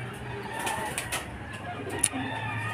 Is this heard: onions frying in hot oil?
no